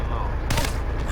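A single sharp gunshot from a headshot in Crysis Warhead cracks out loud and close midway through, with a brief echoing tail over a steady ambient rumble.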